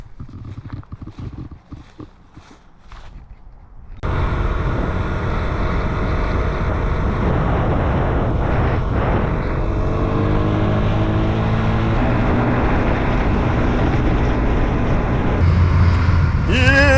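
A 50cc scooter runs at full throttle around 60 km/h on a cold trip through Ontario, with a steady loud engine drone and wind rush that begins abruptly after a quieter opening and carries on unbroken.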